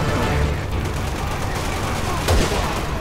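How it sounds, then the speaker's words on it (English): Gunfire from soldiers in Resident Evil 6 crackles continuously in a dense, steady volley, with a sharper burst near the end and a voice talking over it. "We're taking fire at the Two of Hearts."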